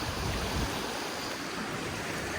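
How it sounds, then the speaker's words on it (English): A lively, boisterous river in Scotland rushes steadily nearby, a continuous broadband roar of flowing water with no voices over it. "Oh, and look at the river."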